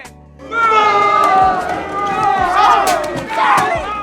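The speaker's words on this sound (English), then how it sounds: "cue the booing machine" A large crowd roars and jeers loudly for several seconds after a brief quiet start, a dense wave of massed voices that swells twice as a booing-style reaction effect.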